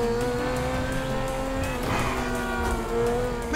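Engine of a large motorcycle ridden in Grand Theft Auto V, a steady loud droning tone held throughout with a brief swell near the middle, no talk over it.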